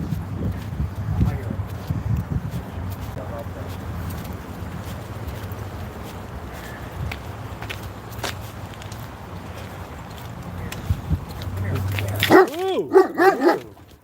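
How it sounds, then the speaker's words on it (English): A dog barks several times in quick bursts near the end of an outdoor street livestream, after a stretch of low traffic and street noise, with someone talking nearby. "Nice doggy."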